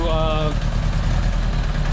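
A 1975 Honda Goldwing motorcycle with its bodywork removed idles steadily, a loud, close, even low engine rumble, with a person briefly talking over it at the start.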